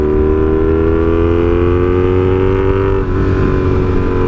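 Honda Magna 750 motorcycle with a straight pipe exhaust, riding on an open road at steady throttle, a loud continuous close-up engine drone with a slight shift in pitch partway through, no talking.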